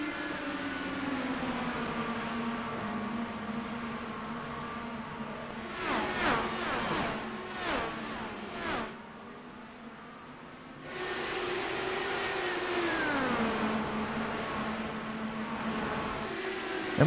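Race car engines drone steadily on the large 2-mile D-shaped Michigan oval in the iRacing sim, holding a sustained pitch that briefly breaks into a cluster of revving surges, drops away for a moment, then returns to a steady roar.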